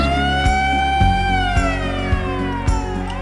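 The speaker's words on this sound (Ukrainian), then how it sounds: "Я сирена. Повітряна тривога." A wailing air raid siren with a rising and falling pitch sounds loudly and alone, with a few soft knocks underneath.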